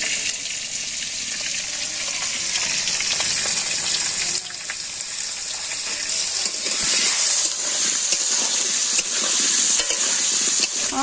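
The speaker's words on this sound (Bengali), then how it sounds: "আলু ভালোভাবে ভাজা হয়ে গেছে একদম পুরো লাল লাল করে" Potato pieces seasoned with salt and turmeric fry in a pan, a steady close sizzle that runs continuously with light stirring scrapes and occasional bright crackles, no talking.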